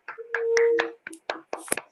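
Scattered claps from a few participants in an online meeting, several distinct uneven hand claps over about two seconds, close and thin-sounding, with a brief tonal hum near the start.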